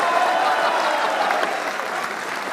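Dense, steady applause from a live comedy-show audience, loud and close throughout with no talk over it.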